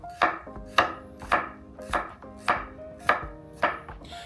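A knife slicing garlic thinly on a cutting board, seven or eight crisp, evenly spaced chops close up with short pauses between them and no talking.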